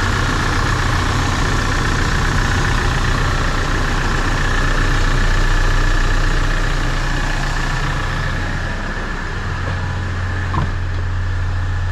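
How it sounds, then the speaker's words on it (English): A 2020 Toyota Hiace with a 2.7-litre turbo diesel idles steadily nearby, giving a smooth, low, even drone with a faint hum above it that holds for the whole stretch with no voices. "Okay, we know the engine is nice and quiet"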